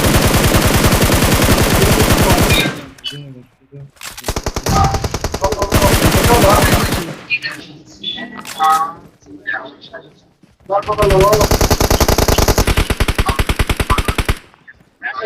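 BGMI gunplay fills the scene with long, loud bursts of rapid automatic fire, pausing briefly between volleys before heavy sustained shooting resumes.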